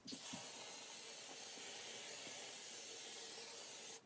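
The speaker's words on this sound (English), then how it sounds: "first we're gonna put in more hairspray because I don't want my hair to move" Hairspray blasts from a can onto hair in one long, steady hiss lasting about four seconds, close and fairly quiet, then cuts off abruptly.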